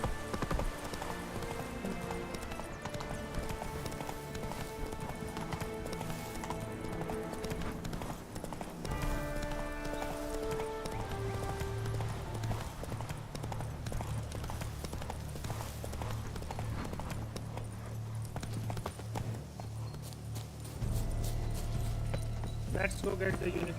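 Roach, a horse in the video game The Witcher 3: Wild Hunt, gallops with steady, loud clip-clop hoofbeats that run under game music throughout, with a voice talking over them.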